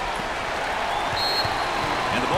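A sellout crowd at an NCAA tournament first-round basketball game between St. Peter's and Tennessee keeps up a broad, steady roar of cheering, with an announcer's voice talking over it.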